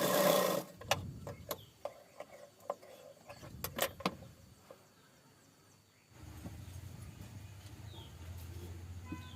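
A sewing machine stitches the sides of a frock made from a mouse-chewed sari, running in short bursts with clicks in between, then a steadier low whir toward the end, fairly quiet and close.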